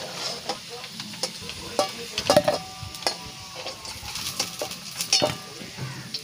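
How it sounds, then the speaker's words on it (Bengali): Fried potatoes sizzling in hot oil as they are stirred and lifted out with a metal utensil, bright scraping clicks and taps on the pan punctuating a steady crackle, close up. "আলু ভাজাগুলো আমার হয়ে গেছে দেখেছেন লাল লাল করে ভেজে নিয়েছি এবার আমি তুলে নেবো আলু ভাজাগুলো"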